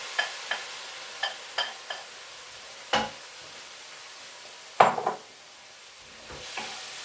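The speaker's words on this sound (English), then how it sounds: "Now into that, I'm going to add my marinated vegetables." Marinated vegetables are tossed and stirred in a wok for curry noodles, with sharp scattered clacks of a utensil against the pan and a couple of louder scrapes over a soft, steady sizzle, no talking.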